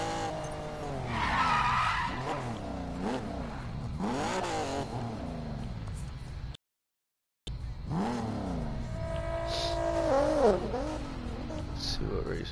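A car in the Need for Speed Payback video game drives and skids, with swooping engine revs rising and falling and squealing tyres, loud and close, broken by a brief silent gap and accompanied by speech.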